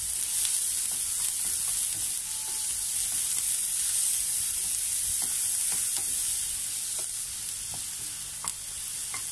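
Onion and ginger sautéing in cooking oil for a Filipino minced pork dish give a steady, hissing sizzle with faint crackles and occasional soft scrapes, continuous and close throughout.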